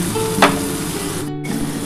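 Spices with a little salt and turmeric fry in a pan for amra chutney, giving a close, steady sizzle with a brief louder spatter early on.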